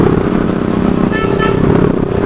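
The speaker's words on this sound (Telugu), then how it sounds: "ఎక్సెల్కి ఏం సౌండ్ పెట్టిండు కాక" A TVS XL moped with its silencer removed, loud raw engine exhaust droning and clattering close by, joined by some rattling and faint scraping, with road traffic around.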